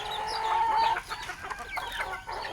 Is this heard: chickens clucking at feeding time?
yes